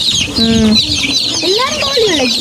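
Backyard chickens cluck and call up close in a dense, loud flurry, with a rooster-like squawk among the hens and chicks.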